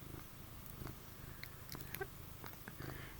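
A cat purring close by, a quiet, steady low rumbling purr with a few faint rustles over it and no talking.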